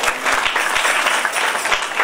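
Audience applause at a kirtan, dense steady clapping from a crowd, close and continuous through the short stretch with a few sharper claps standing out.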